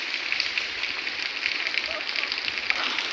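Rain falls steadily at a hillside temple, a continuous close hiss of drops on surfaces, with faint voices in the background.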